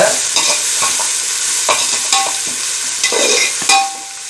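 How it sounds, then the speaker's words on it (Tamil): Onions sauté in a pan for prawn biryani, with a loud, steady close sizzle and repeated scraping taps of a spoon stirring them throughout. "இப்போ 200 கிராம் வெங்காயம் சேர்த்தாச்சு. சேர்த்து இப்போ நல்லா வதக்கிக்கலாம்."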